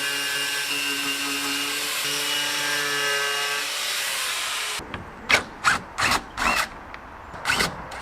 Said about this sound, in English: wire wheel